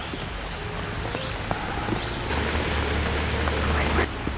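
Steady rain falls over a rainy campsite, a dense continuous hiss with a few brief knocks and taps, the patter growing a little heavier toward the end.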